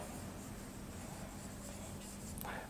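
Chalk or marker scratches and scrapes across a classroom board in short strokes while units are written during a physics lesson on units and measurement, faint and close, with no talking.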